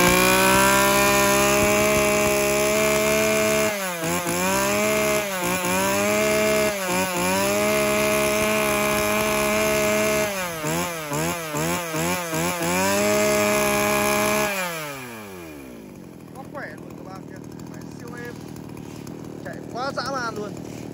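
A used Japanese N6 chainsaw of the Stihl, Echo, Shindaiwa or Makita type runs loud and close, its two-stroke engine repeatedly revving up and down before dropping back to idle, with someone talking over it.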